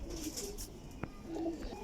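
Fakir Gul pigeon cooing softly in a few low, rounded phrases close by, with a brief sharp knock in the middle and faint background hiss.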